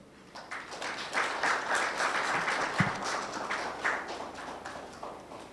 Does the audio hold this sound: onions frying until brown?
no